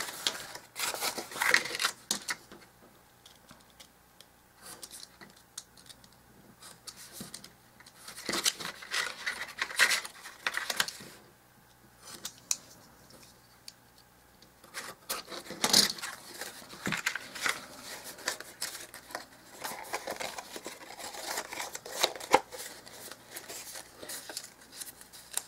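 Craft knife scoring and cutting small paper and wood parts for dollhouse miniature kitchen cabinets, with repeated close, crisp scraping strokes and cutting bursts in uneven runs, no talking.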